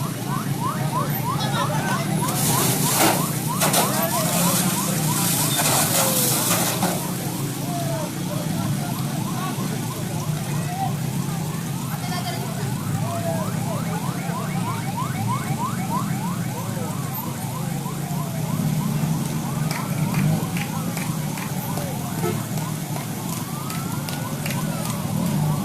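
Datsun minibus car burning in the street on Jalan Soekarno-Hatta in Bandar Lampung, a steady loud roar of fire and crowd noise with sirens and chattering voices throughout, bursts of hiss early on.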